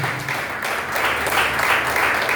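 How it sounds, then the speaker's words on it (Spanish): A church congregation breaks into sustained applause, a dense, even wash of many hands clapping that carries steadily from start to finish. "Aplauda si le va a aplaudir en esta mañana."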